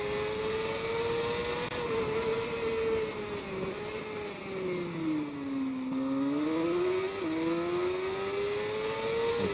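A Yamaha race motorcycle in TT Isle of Man 2 accelerates out of a hairpin, its engine note holding a steady loud whine that dips and then climbs again through the gears, close and unbroken, with no voices.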